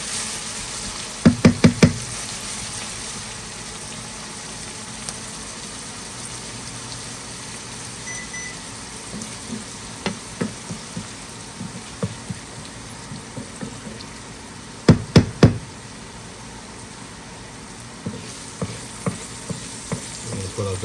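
Vegetables for steak fajitas cook on a hot grill with a steady, soft sizzling hiss, broken by sharp clusters of clacking knocks from utensils against the cooking surface.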